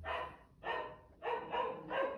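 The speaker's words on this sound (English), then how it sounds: "Oh, my dogs are barking." A dog barks several times in short, sharp bursts at an even rhythm, somewhat distant and fairly quiet, with no talking.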